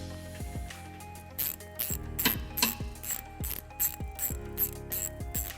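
Quick, rhythmic clicking of a ratchet driving a Phillips bit as side screws come out during a trailer hitch installation on a 2011 Kia Soul, close and repeated in short bursts.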